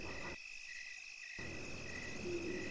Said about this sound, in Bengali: ঝিঝি পোকাদের ডাক আজ খুব আগ্রহ নিয়ে শুনছি।